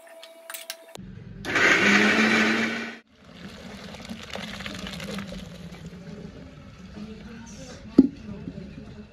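A kitchen blender whirs loudly for about two seconds as it grinds fried cashews, raisins and vegetables into a paste, then cuts off, leaving quieter kitchen clatter.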